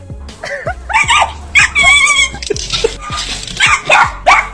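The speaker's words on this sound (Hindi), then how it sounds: "ये कुत्ता बिल्ली को भगाने गया था।" A dog chasing a cat gives a run of loud, close yelps, whimpers and sharp barks in quick, uneven bursts, one after another with no pause.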